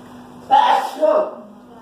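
A single sharp sneeze bursts out in an otherwise quiet indoor space, followed a moment later by a second softer burst of breath or voice, then quiet again over a faint steady hum.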